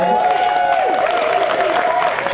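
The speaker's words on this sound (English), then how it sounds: "Give him a round of applause." Wedding guests clap for the master of ceremony at a reception, a steady wash of applause lasting a couple of seconds, with a sustained tone and some voices mixed in beneath it.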